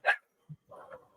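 A single dog gives a short, sharp bark, followed by a brief low grunt and a softer trailing whine, close and clear against silence.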